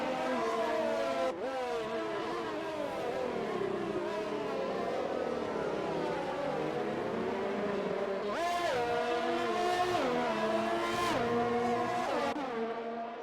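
Racing cars on track in the GP2 video game at the Hungarian Grand Prix, their engines whining loudly and steadily, pitch climbing and dropping sharply with repeated gear shifts.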